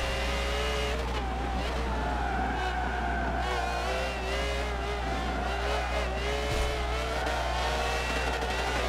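Ferrari race car in Forza Motorsport 7 online racing, a sustained loud engine drone with shifting pitch and brief tire noise, heard continuously and alone.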